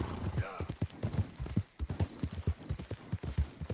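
Horse hooves clip-clop in a steady, quick rhythm in the video game Red Dead Redemption, close and fairly quiet, with someone talking over them.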